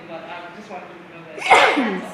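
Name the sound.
sneeze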